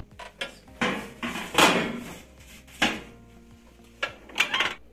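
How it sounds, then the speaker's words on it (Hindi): A pizza goes into a preheated oven amid a few metallic clanks and clatters of the tray and oven door, close and uneven, with quiet gaps between the bangs. "ओवन हमारा प्री हीट हो चुका है, अब इस वक्त हम इसमें रखते हैं पिज्जा।"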